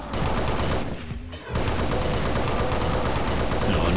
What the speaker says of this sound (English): chain gun is a bad choice here, because you'll just end up hitting the pillars